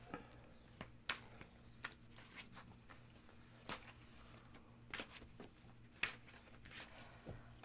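Soft papery riffling and scattered sharp card snaps as tarot cards are shuffled, irregular and close, with a low steady hum underneath and no talking.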